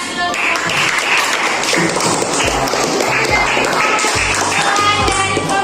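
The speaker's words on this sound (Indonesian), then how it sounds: "Oke, tepuk tangan dulu." Classroom audience of students clapping together in sustained applause, steady and dense throughout, with some voices mixed in.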